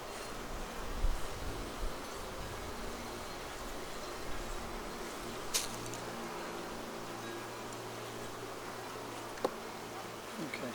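Honeybees in a crowded hive being opened for splitting, a dense continuous buzzing hum with faint rustling and a couple of brief clicks, fairly quiet and steady throughout.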